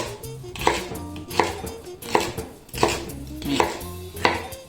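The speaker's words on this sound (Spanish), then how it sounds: "lo picamos a trozos grandes" Celery is being chopped into large pieces with a knife on a cutting board, the blade landing in a steady run of crisp, close knocks about every three-quarters of a second, with no voices.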